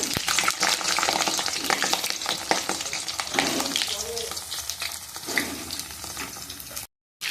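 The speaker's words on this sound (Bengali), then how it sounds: "এবার পটলগুলো ছেড়ে দেবো, একটু ভেজে নেবো, লাল লাল করে একটু ভেজে নেবো" Pieces of pointed gourd (potol) fry in hot oil in a wok, giving a steady, close sizzle with stirring scrapes throughout and a brief break near the end.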